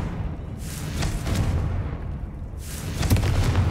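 Confringo fire spell explosions in Hogwarts Legacy, a couple of muffled booming blasts with crackling bursts over a low rumbling background, moderately loud.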